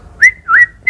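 A person whistles three short rising chirps imitating a songbird's song, close and clear, with brief pauses between each note.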